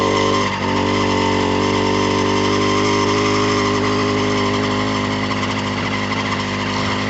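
Electric bike motor pulls up a hill on a night trail ride without pedaling, giving a loud, continuous, steady whine with wind and road roar close by and no talk.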